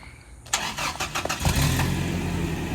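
A pickup truck engine cranks and catches after a short pause, then revs up and settles into a throaty, rising roar close by.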